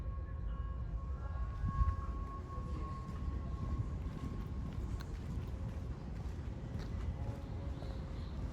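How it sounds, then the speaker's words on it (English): Metro Transit Green Line light rail train passing through downtown St. Paul, a steady rumbling roll with a faint tonal whine, heard from a skyway at moderate distance with no talk. "There's that Metro Transit Green Line"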